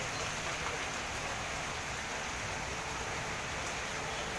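Heavy rain pouring down at a road junction in Aurangabad, a dense, steady roar of rainfall with no breaks, close and constant throughout with no clear voices.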